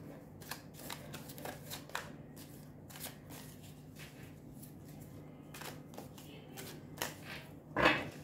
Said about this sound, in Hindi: पहले निकालते हैं ये कार्ड्स।